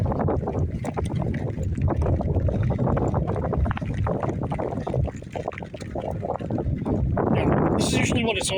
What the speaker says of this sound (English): Wind's pretty bad.